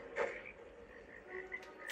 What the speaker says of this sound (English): Oh, it looks like we got frogs.